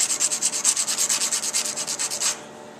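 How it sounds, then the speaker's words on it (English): Ends of knife handle scale pieces are chamfered with a rapid series of short rhythmic sanding or filing strokes, about twenty close, bright scrapes in quick succession, then stopping abruptly. "I lightly chamfer the ends of each piece."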